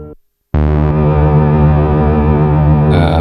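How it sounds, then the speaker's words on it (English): A Behringer TD3-MO synth plays a sustained, buzzy distorted tone through a guitar flanger pedal after a brief silence, loud and continuous with a slowly sweeping, whooshing shimmer. "So this one has a flanger"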